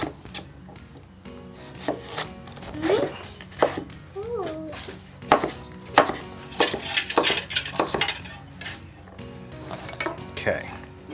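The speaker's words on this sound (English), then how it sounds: "I'm going to try my best to just cut little 1 centimeter cubes" A kitchen knife dicing radish into small one-centimetre cubes on a wooden board, giving a steady run of crisp taps and knocks with brief scraping, while people talk over the chopping.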